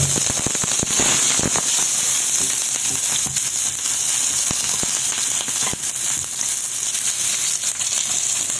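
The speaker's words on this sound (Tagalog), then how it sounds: "So, maglalagay tayo ng oil. Then, iuna natin yung sibuyas." Chopped onions sautéing in hot oil in a pan for a Filipino chicken innards soup, a loud, dense crackle and sizzle with sharp pops throughout and almost no talk.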